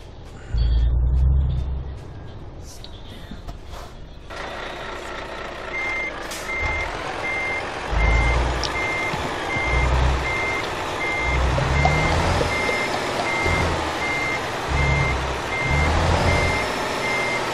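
A truck pulling a trailer reverses in Euro Truck Simulator 2, its backup alarm beeping in a steady repeating rhythm over a loud diesel engine that rumbles and surges in bursts.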